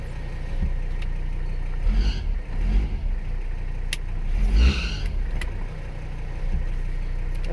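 A Mercedes 300CD engine roars steadily at full throttle with a window rolled down, its low droning rumble swelling in a few surges, loud and close with no voices.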